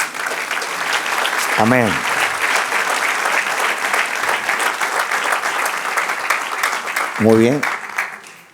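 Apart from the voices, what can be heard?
congregation applause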